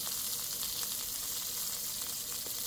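Pre-cooked barbecued pork sausage reheating in a 19th-century-style cast iron skillet, a steady close sizzle and hiss of frying fat, continuous with no talk.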